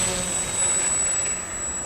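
Steady high-pitched drone of a WOT4 radio-controlled model aircraft engine on its maiden flight, running at low throttle, continuous and fairly distant over two seconds with a faint whine.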